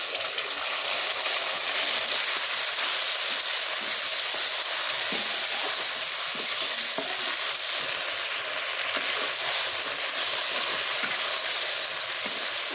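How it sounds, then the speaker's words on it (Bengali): Masala spices frying in a pan for mung dal cooked with fish heads, a steady dense sizzle that holds loud and even throughout with no talking. "আমি এখন শুধু মশলাটা ভালো করে ভেজে নেবো"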